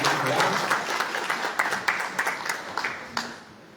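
A church congregation at a Sunday baptism service applauds, with dense, sustained clapping that has a few sharper individual claps standing out and slowly fades toward the end.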